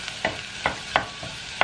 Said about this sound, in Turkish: Mantarlar suyunu salana kadar bunu da böyle kavuracağım.